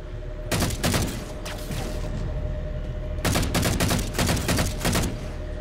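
Sustained bursts of gunfire aboard a Pelican dropship in Halo 4, two dense volleys of rapid shots over a steady engine drone, loud and close.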